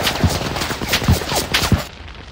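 Rapid gunfire from a Gatling gun in Red Dead Revolver, a burst of several loud close shots in quick uneven succession that stops abruptly near the end.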